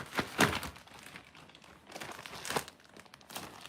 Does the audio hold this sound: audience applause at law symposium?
no